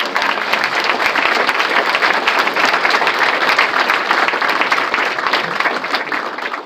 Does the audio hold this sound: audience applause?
yes